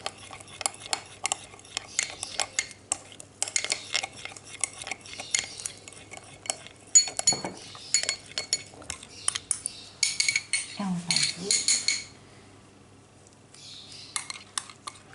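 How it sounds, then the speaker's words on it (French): A spoon stirs and scrapes food with salty cheese in a bowl, giving repeated close clinks and scraping strokes in uneven bursts that stop near the end before a short final flurry. "On mélange le tout bien comme il le faut."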